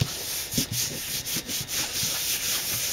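Scraping rub strokes on the surface of an Optimist dinghy model, a run of short, close, fairly steady passes with no talking.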